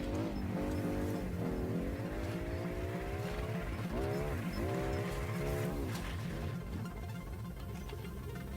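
A car is driven in GTA Online during the Cayo Perico heist, with a loud, continuous engine that climbs in pitch through repeated gear shifts, plus faint tire noise and no talking.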